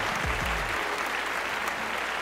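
Audience applause, a steady wash of many hands clapping at moderate volume throughout, with a brief low voice or rumble at the start.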